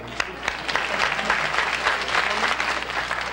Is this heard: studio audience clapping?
yes